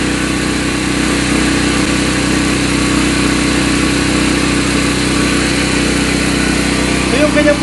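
A Marpro MP3500 gasoline generator drones steadily at close range, a constant buzzing engine hum that holds unchanged throughout with no pauses.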